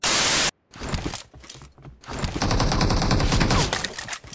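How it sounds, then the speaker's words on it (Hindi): Gunfire from the battle royale game BGMI, heard through Truke gaming earbuds: a loud burst of static-like noise, a gap, then dense rapid automatic fire that rattles on for seconds in close, continuous volleys. "अबे गन साउंड तो बहुत अच्छा आ रहा है"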